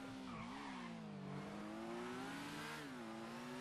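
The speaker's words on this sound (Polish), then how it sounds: "Ale całkiem przyjemny ten motorek." An FCR 1000 motorcycle engine revs in GTA Online, a steady buzzing tone rising and dipping in pitch as the throttle changes, heard alone and fairly close throughout.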